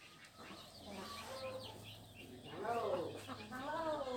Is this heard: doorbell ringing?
no